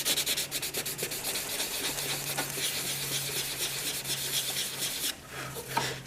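Guide coat being rubbed down by hand on a Mugen bodykit panel for a Honda Civic FN, a steady close abrasive scrubbing with a faint low hum underneath, easing off briefly near the end.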